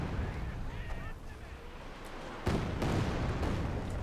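Katyusha rocket barrage launching in Company of Heroes 2 amid battle noise: a steady roar of combat with a sharp loud burst partway through, followed by rumbling blasts and scattered impacts, all at a distance.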